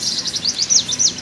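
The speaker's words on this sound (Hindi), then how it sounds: "चिड़ियाँ भी चहचहा रही हैं" Small birds chirp in quick, high, repeated tweets on a morning outdoors, clear and fairly close with no talking.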